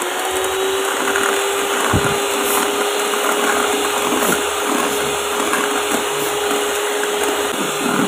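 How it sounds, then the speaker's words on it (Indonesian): An electric mixer beats egg whites with sugar for a meringue, giving a constant, close motor whine that holds steady without talk. "Ini dimasukkan sebagian dulu, lalu dimixer kurang lebih 30 detik."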